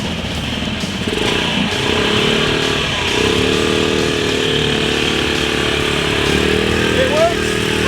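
Metropolitan scooter engine with a sensitive throttle, running loud and close with a buzzy rasp that rises and falls slightly over a continuous drone, while a person speaks over it.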